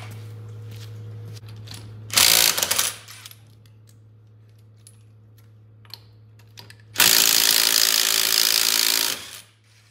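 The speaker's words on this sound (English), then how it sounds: "to pop the wheels off, I just got a impact here with a 3/4 inch, and the spline socket slides in there" Impact wrench fitted with a 3/4 inch spline socket removing wheel lug nuts on a 2019 Polaris Ranger, two loud rattling bursts of a couple of seconds each over a steady low hum.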